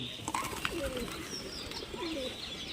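Pigeons coo and chirp in short rising and falling calls, fairly close, over a steady background hum.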